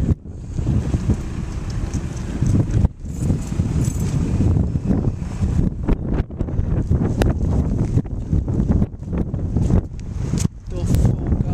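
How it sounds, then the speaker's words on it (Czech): Strong wind buffets the microphone with a constant rumbling roar, gusting throughout, with voices faintly heard beneath it. "To fouká, Miko."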